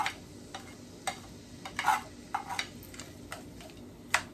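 Cabbage and vegetables sauté in oil in a pan with sausage and shrimp, making a faint background sizzle broken by sharp clicks and scrapes from stirring at irregular intervals.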